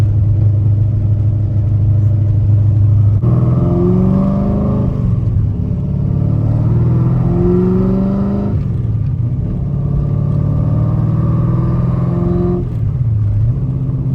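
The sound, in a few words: Ford Mustang engine running, valves chattering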